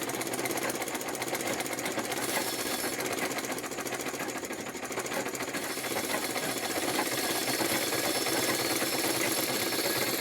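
A sewing machine runs continuously while winding thread onto a bobbin through its bobbin case, a loud, steady, rapid mechanical rattle and whir that stays even throughout with no speech.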